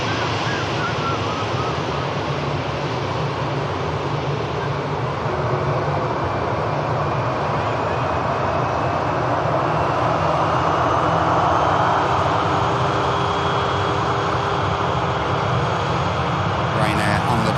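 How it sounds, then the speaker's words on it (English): A Ryanair jet on its departure roll at Manchester Airport, a loud, steady roar of engine noise that builds gradually over the full stretch, sustained and close. "Ryanair on the departure roll."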